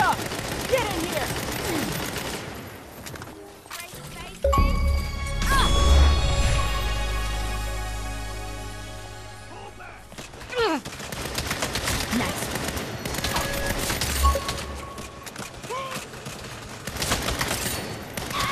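Heavy gunfire fills a firefight against a Gatling gunner in Saints Row. Long roaring bursts and a sustained minigun-like rattle are broken by crashes and impacts, loud and close throughout, with shouted voices now and then.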